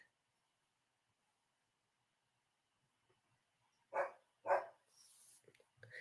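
A small dog gives two quick, fairly close barks after a long near-silent stretch, followed by faint rustling noise.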